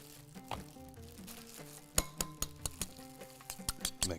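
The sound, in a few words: mixing omelette eggs in a bowl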